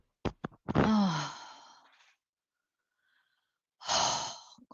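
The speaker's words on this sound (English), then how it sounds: "The way she was breathing, can you hear her?" A woman's heavy, sighing breaths, a long drawn exhale with a moaning edge followed by another breath after a pause, faint and close, with no talk.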